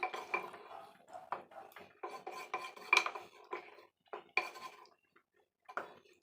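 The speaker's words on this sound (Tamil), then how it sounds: "இப்போ நல்லா கிளறி விட்டுக்கலாம்." Stirring goat brain and brinjal tamarind curry in a pot produces irregular metallic clinks and scrapes of a spoon against the vessel, close and moderately loud, in uneven bursts with short pauses.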